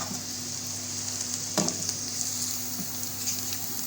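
Sliced onions frying in hot oil toward a light golden color for a white chickpea curry, a steady close sizzle with a low hum underneath and one brief clatter of stirring partway through.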